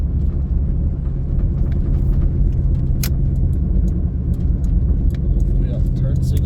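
Old squarebody Chevrolet Suburban on the road, its engine and tires giving a steady loud rumble from inside the cab, with small rattles and clicks over the top and some talking mixed in.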